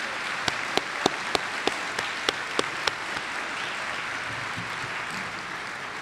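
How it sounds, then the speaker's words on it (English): Audience applause at a university health professions commencement ceremony: steady, dense clapping from a large crowd with a few sharp, louder individual claps standing out in a regular rhythm through the first half. "I want to ask all of you to join me in applauding all of the hard work"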